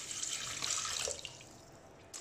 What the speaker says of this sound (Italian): Qui dentro, come vedete, c'è un residuo, mettiamo semplicemente dell'acqua.